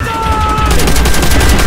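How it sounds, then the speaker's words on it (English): Rapid, loud gunfire from a BAR rifle in Call of Duty: World at War, a steady stream of close, dense shots filling the whole clip. "I hate the bar. It shoots so slow."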